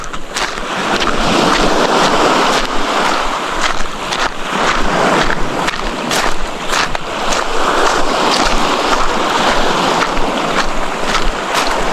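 Sea waves wash onto a remote island beach at Paluan, Occidental Mindoro, a loud, steady surf roar with strong wind buffeting the microphone throughout and no voices.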